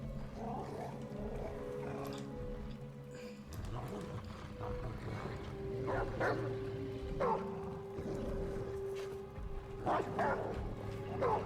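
A dog barks, yips and snarls while attacking in the video game Remnant: From the Ashes, played on Nightmare difficulty, with repeated bursts over a dense, continuous bed of game sound and low rumble.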